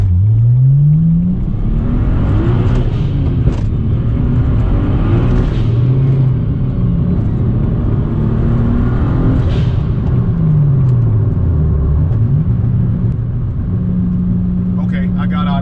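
A single-turbo N54 BMW E90 335xi launches hard and pulls through the gears, its engine note sweeping up and dropping at each shift, loud and close from inside the cabin with a heavy low rumble throughout.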